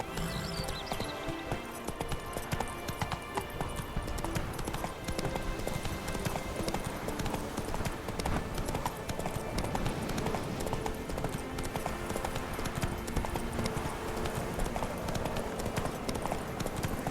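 Horse hooves galloping in The Witcher 3: Hearts of Stone, a fast, steady clip-clop that runs unbroken throughout over a dense game soundscape.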